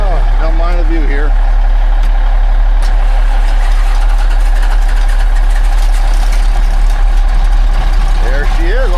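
A 1981 Freightliner cabover semi truck's engine idles with a loud, steady low rumble throughout, with someone talking briefly over it at the start and end.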